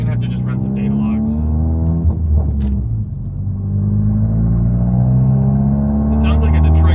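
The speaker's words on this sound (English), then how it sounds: "It sounds like a Detroit diesel." A Volkswagen MK7 GTI with a stage 1 tune and modified exhaust drones with a deep, steady rumble, like a diesel truck, heard from inside the car as the engine holds a low cruising note, with a brief dip midway.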